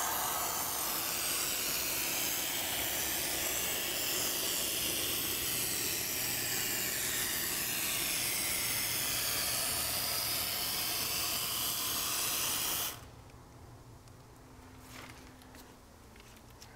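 Portable two-part foam sprays steadily from a cone spray nozzle as a loud, continuous hiss for about thirteen seconds, then cuts off abruptly, leaving a faint room background.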